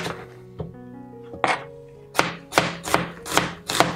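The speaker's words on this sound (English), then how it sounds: "So I'm done with cutting onions." A knife chops onion into rough slices on a cutting board, making several sharp thunks that come quicker and louder toward the end, with no talking.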